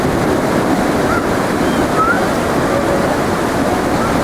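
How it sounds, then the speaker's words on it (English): Ocean surf rolling onto a beach as waves grow larger, a constant loud wash of water with heavy wind buffeting the microphone throughout. "And the waves are getting bigger and bigger."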